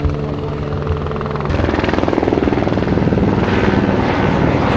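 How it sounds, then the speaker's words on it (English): A helicopter's rotor chop thumps steadily nearby over an aircraft carrier, growing stronger and more rhythmic as it passes, loud and continuous. "Look at this helicopter."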